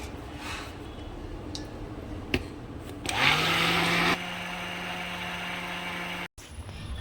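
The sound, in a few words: blender churning cream with cold water to make butter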